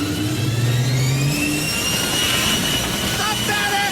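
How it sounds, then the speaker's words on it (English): Jet afterburners kick in on a fighter aircraft in an animated cartoon, a loud roaring engine rush with rising whine overtones, under a voice at the start. "The afterburners kick in."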